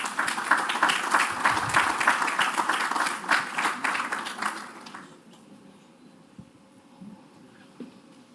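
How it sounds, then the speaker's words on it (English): A conference audience at an engineers' association claps in a dense, steady round of applause that fades out after about five seconds, leaving a quiet room with faint stray sounds. "Please, can you give him applause?"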